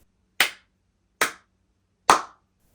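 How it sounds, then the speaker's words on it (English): Three sharp hand claps ring out in an untreated bedroom, evenly spaced about a second apart, each followed by a short reverberant tail and nothing else. "So if I clap, you can hear an echo."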